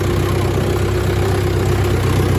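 A farm tractor engine runs steadily and loudly throughout, a constant low idling drone with a droning hum and no talk over it.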